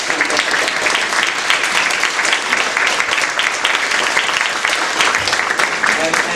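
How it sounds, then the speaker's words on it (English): Audience applauding a visiting speaker at an evening community event in Sydney, a steady dense wash of many hands clapping throughout, loud and close, with scattered voices mixed in. "I want you to now express your thanks and a big applause to Ambiga for coming."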